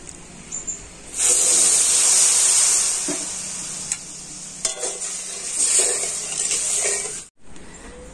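Water poured onto sugar in a hot kadai hisses sharply in a loud, sustained burst that fades and swells while being stirred, then cuts off abruptly near the end.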